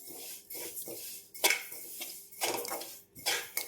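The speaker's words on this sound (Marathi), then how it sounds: "आता आपले तीळ आहे ते आपण भाजून घेऊ." Sesame seeds dry-roast in a pan, heard as bursts of dry rattling and scraping as a spatula stirs them against the metal, in uneven strokes with brief pauses between, close and fairly quiet.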